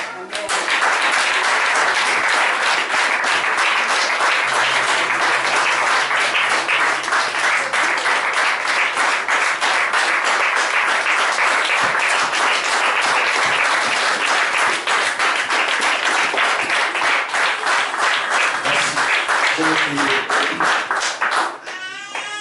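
A church congregation claps steadily and loudly for about twenty seconds at a French-speaking service led by a bishop, the dense applause never letting up, with a low hum underneath and a voice faintly present near the end.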